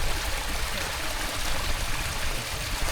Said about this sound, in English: this looks like a super powerful stream